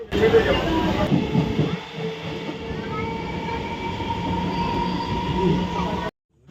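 Train rolling along rails during a passenger journey, a steady loud rumble with faint squealing wheel tones, continuous for about six seconds before cutting off.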